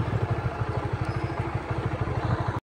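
A motorcycle engine idles on a barangay pathway, a close, steady pulsing putter with even rapid beats that cuts off abruptly at the end.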